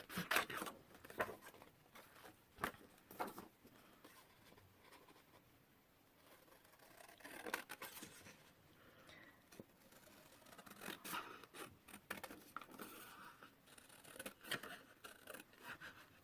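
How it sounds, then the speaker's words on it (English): Paper journal cards being cut out with scissors, giving repeated snipping and scraping strokes in irregular bursts, close and fairly quiet, with no talking. "let's just go ahead and cut these two out"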